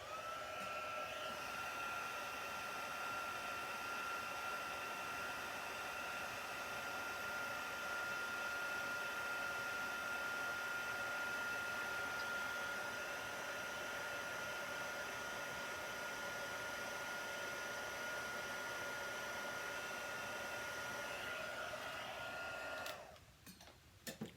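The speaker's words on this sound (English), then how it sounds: "let's heat this up with the heat tool and watch it melt" An embossing heat tool blowing hot air to melt embossing powder on a craft card, a steady loud whirring hum running unbroken for over twenty seconds before it cuts off with a brief clatter.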